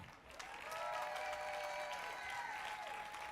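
Audience at the Pittsburgh Recovery Walk 2023 clapping steadily after a recovery story, a dense continuous wash of applause with a faint tonal hum running underneath.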